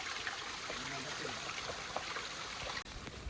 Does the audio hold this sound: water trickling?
yes